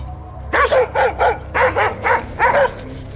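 A dog guarding ground near a metal detectorist barks six times in an even, rhythmic series, close and loud against quiet outdoor background.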